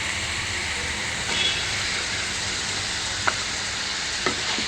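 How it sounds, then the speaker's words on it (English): Onion, tomatoes and jalapeno peppers frying in a pan give a steady, close sizzle, with a few light scrapes and taps from stirring near the end. "So I'll mix this all well, the onion, the tomatoes and the jalapeno peppers, for 3 to 4 minutes."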